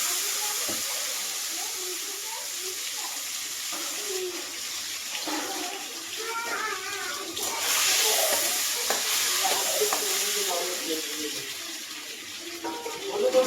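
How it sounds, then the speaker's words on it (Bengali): An egg frying in hot oil gives a steady hiss, close and fairly loud, with a voice talking over it at intervals and a rise in intensity partway through. "এইভাবে আমি ডিমটাকে ভেজে তুলে নেব"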